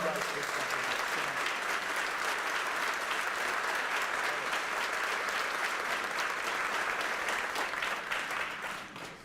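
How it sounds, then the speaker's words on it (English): A crowd applauds at an Arizona legislation signing event, dense sustained clapping filling the room for several seconds before tapering off at the end. "So give yourself a round of applause because you guys did something outstanding"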